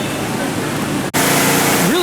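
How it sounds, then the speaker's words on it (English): Waterfalls at a Las Vegas resort produce a loud, steady rushing wash of falling water that fills the whole span, cut by one brief dropout midway. "Really cool waterfalls over in this section."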